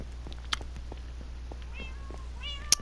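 Cat meowing in the Minecraft video game, in a player-built cat room: a couple of short, faint meows over a steady low hum, with a brief sharper click near the end.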